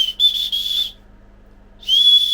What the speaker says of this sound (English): Come on, it has a little whistle.